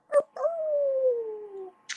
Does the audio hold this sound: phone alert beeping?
no